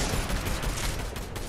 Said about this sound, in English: He's shooting at him.